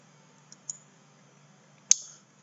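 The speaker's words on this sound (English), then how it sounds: "And then I will click" A computer mouse clicks during a virtual machine setup for an Android 4 install: two small faint clicks early on, then one sharper, louder click near the end, all alone against a quiet room hum.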